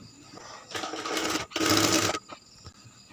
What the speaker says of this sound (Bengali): তো আসুন এখন সেলাই করে দেখাই যে কীভাবে সেলাই করতে হবে।